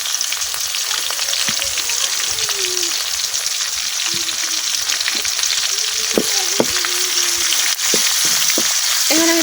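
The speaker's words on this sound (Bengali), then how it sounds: "এখন আমি এই তেলের মধ্যে দিয়ে দিলাম কাটে রাখা পেঁয়াজ পেরেস্তা করার লাগে।" Chopped onions fry in oil with a loud, steady sizzle, close by, and occasional scrapes and clinks of stirring scattered throughout.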